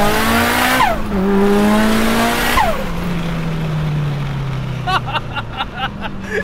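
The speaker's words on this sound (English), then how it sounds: "every gear that you put into it, it just wants to pull and pull and pull" A Mitsubishi Evo accelerating hard through the gears, its engine rising loudly and dropping with each shift, one upshift after another, close and dominant, with a few sharp clicks near the end.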